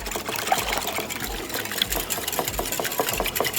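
Whisk beating sugar and vanilla in a mixing bowl in a Caribbean cooking demonstration, a dense, continuous rapid scraping and rattling at close range with no talk over it.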